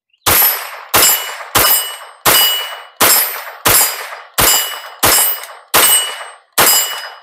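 A Strybog TR22 rifle fired outdoors during a total solar eclipse: ten loud, sharp reports spaced about every 0.7 seconds, each with a ringing tail, and no talking.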